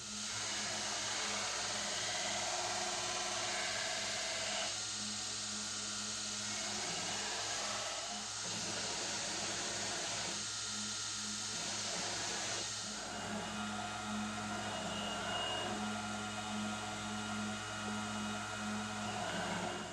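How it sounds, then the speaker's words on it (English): Steady, loud grinding whine of a belt grinder shaping a Bowie knife blade, with pitch shifting as pressure changes and brief dips between passes. "we're going to finish grinding this blade"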